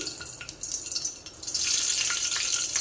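Small pieces of green chilli hit hot oil in a kadhai and set off a loud, steady hiss that builds and holds.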